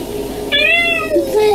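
A switch-accessible toy cat lets out one clear, close electronic meow lasting about a second, which bends upward and then trails off over a low background hum.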